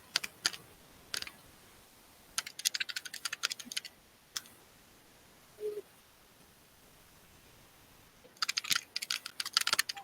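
Quiet, sparse keyboard typing in a hushed room: small clusters of light clicks and taps with gaps between them, faint against a soft background hiss.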